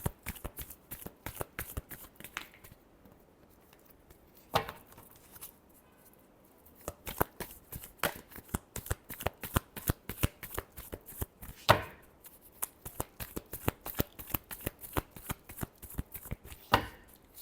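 Tarot cards are shuffled close by in repeated bursts of crisp riffling flutter and slaps, irregular in rhythm with short pauses, and no one speaks.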